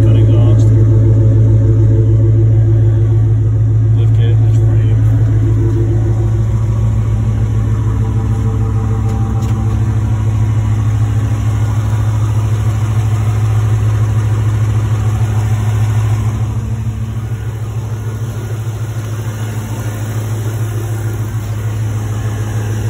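A 5.7 Hemi V8 swapped into a 2004 Jeep Wrangler Unlimited LJ idles steadily and loudly up close through a 2.5-inch exhaust and two-chamber muffler, a throaty low drone that eases slightly softer toward the end.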